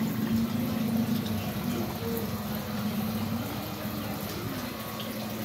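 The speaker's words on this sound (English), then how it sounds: "Fresh water comes in and drains out here" Fresh water pours into a tank at a catfish and tilapia hatchery, a steady, moderately loud wash of flowing water with a low hum beneath it, continuous and unbroken.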